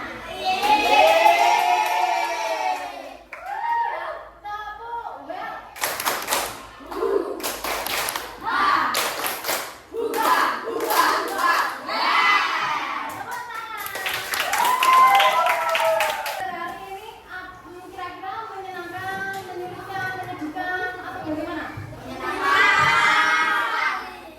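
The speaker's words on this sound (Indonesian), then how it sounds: "saya pengen sekali lagi mendengarkan tepuk well-nya" Participants at the close of an Indonesian online computational-thinking class clap together in a rhythmic 'tepuk' cheer, bursts of claps and taps mixed with voices and shouts throughout.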